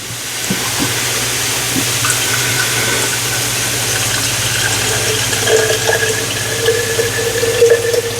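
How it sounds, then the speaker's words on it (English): Tap water pours into a nearly empty jar of pasta sauce in a steady, close stream for several seconds, and the tone rises as the jar fills. "I just add just a little bit of water"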